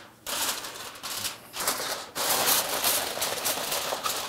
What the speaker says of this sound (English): Kind of tuck the tin foil in.